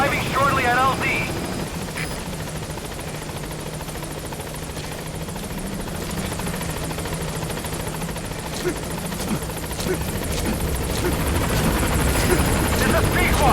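The Pequod helicopter in Metal Gear Solid V approaches a landing zone, its rotor thumping in a steady loud drone that swells slightly near the end, with radio voices talking over it.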